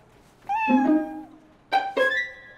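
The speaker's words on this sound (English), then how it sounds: "This is Kevin, the station cat." A cartoon station cat at a police station meows twice, a drawn-out meow followed by two quick short mews a moment later, clear and close with no talking over it.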